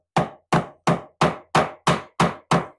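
Eight evenly spaced hammer blows strike in a steady rhythm, sharp and close, driving a nail through a dowel, with no talking.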